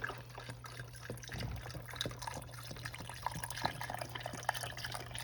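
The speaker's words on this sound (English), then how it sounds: "Now what I'm going to do is fill this up with water" Water from a tap pours into a pot of oxtails, a faint steady trickle with scattered drips and splashes over a low electrical hum.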